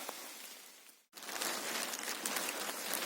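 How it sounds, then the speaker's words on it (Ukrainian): Moderate summer rain falls steadily in a forest along a woodland road, a soft even patter that briefly cuts out and then returns slightly stronger. "Ну такий уміряний грибний дощ"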